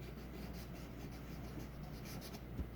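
A pen writes a word on paper with a soft, continuous scratching and rubbing, close and quiet, with no talk.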